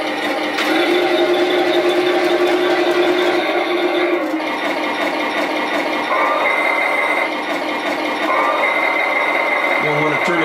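Turret motor of a painted Heng Long 1/16 scale Tiger 1 RC tank whirs continuously with a steady mechanical buzz and slight gear rattle, close and fairly loud, shifting in pitch near the end.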